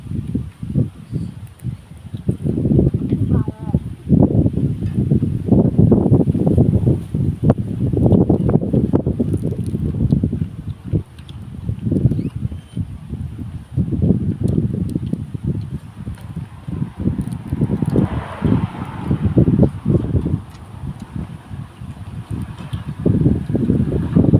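Strong gusty wind roars and buffets the microphone in uneven surges, with a rushing, rustling rain storm noise that rises and falls throughout.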